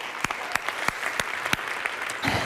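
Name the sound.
audience applause at summit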